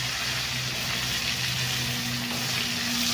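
Pointed gourd (potol) coated in turmeric and salt frying in a hot wok, giving a dense, steady, loud hiss of sizzling oil throughout with a faint low hum beneath and no talk.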